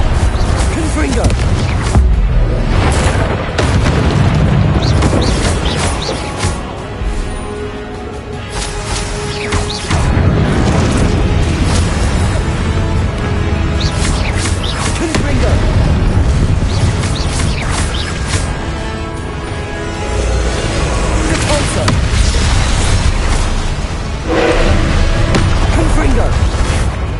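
Confringo blasting spells explode again and again during a Hogwarts Legacy battle, a dense and continuous stream of loud booms and crashes layered with other spell effects and voices throughout.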